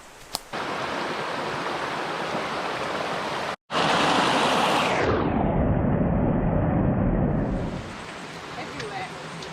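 A rushing waterfall on a Dominica rainforest trail, a loud broadband roar that cuts out briefly and then fades down, with voices talking over it.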